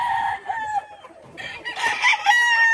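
Chickens on a farm keeping white Kelso purebreds and two-way-cross pullets cluck close by while a rooster crows loudly. Several overlapping calls rise and fall over the short stretch with no talking.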